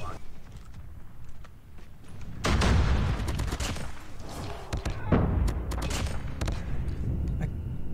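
AK47 fire in a first-person shooter game, with loud bursts of rapid shots breaking out in two main volleys over quieter clicking and background game noise.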